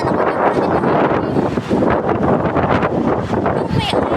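Strong wind gusts buffet the microphone outdoors on a cold 19-degree day, a loud continuous rumbling roar with fluctuating intensity throughout.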